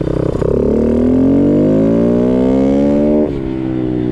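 A small SyxMoto dirt bike engine runs close by, its pitch climbing steadily as it revs, then dropping back abruptly near the end.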